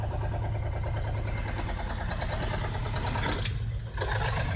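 A worn YaMZ-238 diesel engine that starts poorly, running after starting with a steady, loud, low-pitched rumble throughout and a brief dip near the end, no talking.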